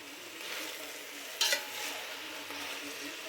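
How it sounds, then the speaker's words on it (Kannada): Mushrooms frying in a pan, stirred gently with a quick scrape and clink near the middle over a steady soft sizzle. "ಮಶ್ರೂಮು ನಿಧಾನಕ್ಕೆ ತಿರುಗಿಸ್ಬೇಕು ಅದು ಸ್ಮೂತಾಗಿರೋದ್ರಿಂದ ಒಡ್ಕೊಬಿಡುತ್ತೆ"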